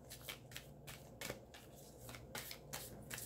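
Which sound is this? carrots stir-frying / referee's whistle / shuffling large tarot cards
shuffling large tarot cards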